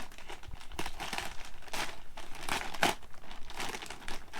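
Plastic bag of universal potting soil being opened, close crinkling and rustling of the plastic in uneven bursts, fairly quiet, with no speech.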